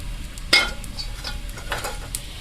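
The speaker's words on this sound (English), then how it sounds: "we'll get that bacon in there and get that started to frying up" Bacon frying in a cast-iron Dutch oven set over hearth coals gives a soft, continuous sizzle, broken by a sharp scrape of stirring and a few lighter clinks.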